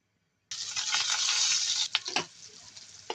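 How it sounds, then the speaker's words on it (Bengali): Loud sizzling of chopped garlic, onion and green chilies frying, with scraping stir strokes, starting abruptly after a brief silence and continuing steadily with a few sharper scrapes near the end. "আমি রসুন পেঁয়াজটা ভালো করে নাড়াতে করছি"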